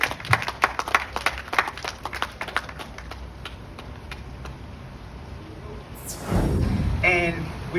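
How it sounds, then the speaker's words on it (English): Scattered claps from a crowd at an outdoor vigil ring out sharply at first, then thin into light scattered applause, followed by a voice and movement noise. "Let's give him a big round of applause."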